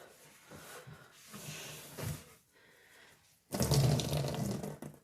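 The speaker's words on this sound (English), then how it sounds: "Give the sink another little do over with the sponge" A sponge scrubs a kitchen sink with water during dishwashing. Soft wet swishing comes in short bursts at first, then louder running water and scrubbing take over near the end.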